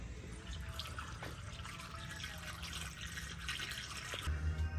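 Water from a coolant flush pours steadily into the cooling system of a 1990 Mazda Miata, a continuous close splashing trickle that swells slightly louder near the end.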